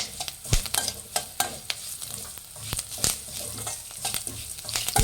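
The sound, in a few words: curry leaves frying in oil with coriander seeds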